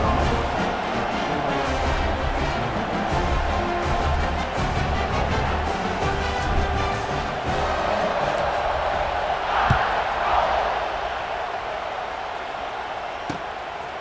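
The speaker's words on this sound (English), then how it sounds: "this crowd now ready to get behind them" Stadium crowd in the College Football 26 video game roars steadily at kickoff, a loud continuous cheer with rising swells and a few sharp whoops, sustained throughout.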